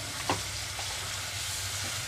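Tomatoes go into softened fried onions in a pan for a dondakaya masala curry, giving a faint, soft sizzle with a brief clatter at the start and quieter stirring noises after.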